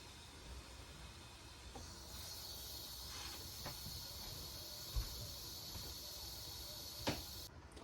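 A pressure cooker with pot roast inside, bleeding off steam through a steady high hiss that stays faint and continuous, with a few small clicks and knocks along the way.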